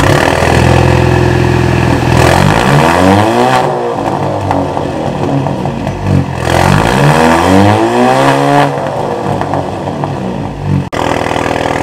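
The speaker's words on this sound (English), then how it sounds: "Let's do an exhaust start now." An Alfa Romeo with a newly fitted exhaust starts up for the first time, its engine revving loudly in repeated rising and falling sweeps, close and very loud, with a brief cut near the end.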